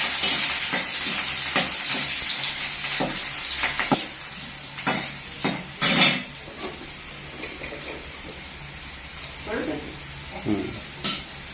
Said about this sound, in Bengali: তেলে কিন্তু আমি পেঁয়াজটা দিয়ে দিলাম আর রসুন কিছু দিয়ে